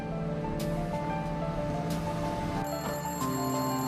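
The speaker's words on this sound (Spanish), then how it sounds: "El teléfono ya estaba sonando cuando llegó." A telephone rings with repeated electronic tones over a steady background hiss.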